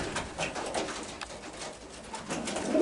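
Soft, repeated pigeon cooing in an enclosed loft, with a constant low background hum and occasional faint rustling.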